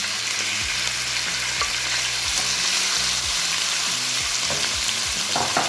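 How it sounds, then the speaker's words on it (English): Shredded beef sizzling hard in a very hot pan with regular vegetable oil, a loud dense close crackle running without a break, with a low rhythmic hum underneath. "The pan is really hot, so now I'll add my shredded meat."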